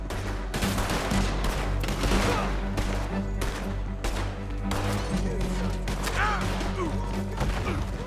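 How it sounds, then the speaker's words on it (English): Gunfire in Red Dead Redemption 2 during a chaotic shootout, bursts of shots crackling in rapid clusters over a rumbling game soundtrack, fairly loud and continuous. "Come on, guys, shoot him!"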